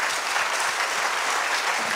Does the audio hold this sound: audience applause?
yes